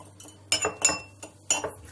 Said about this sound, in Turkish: şunu bir kaşık alıp hop böyle sallıyoruz